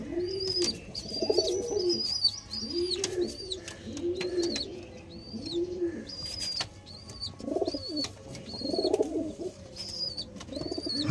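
Pigeons kept for sale by a breeder coo repeatedly in a rhythmic series of soft, throaty calls, close by, with brief wing flaps and faint chirps from other birds mixed in.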